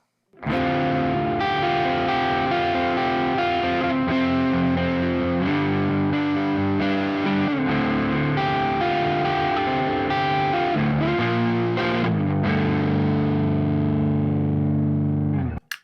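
Heavily distorted electric guitar on a Gibson Les Paul Standard 60s neck pickup plays sustained chords and notes, thick and saturated, ringing continuously for the full stretch.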